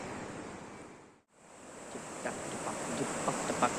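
Steady broadband rush of flowing water, continuous and fairly loud, with a brief dropout and faint splashy ticks later on.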